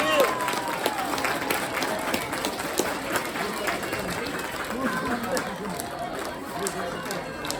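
A crowd applauds at a sports tournament award ceremony, with steady, dense clapping mixed with crowd chatter and voices throughout.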